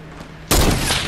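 A single loud sniper shot lands a headshot in Fortnite, striking abruptly and close after a quiet stretch, then trailing off into a noisy, sustained echo.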